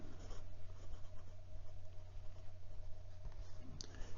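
Broad-nib Maiora Impronte Terra Oversize fountain pen writing on Clairefontaine 90 gsm paper, a soft continuous scratching of nib on paper, close and quiet, with a small tap near the end.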